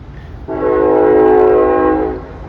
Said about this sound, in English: Trains coming by.